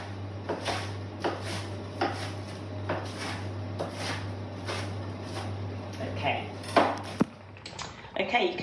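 A knife chops butternut squash on a board in a repeated even series of sharp close knocks, about two per second, over a low steady hum.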